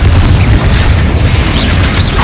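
A heavy, booming magical explosion from the Confringo spell in Hogwarts Legacy, loud and close, a sustained roaring blast with crackling debris filling the whole moment.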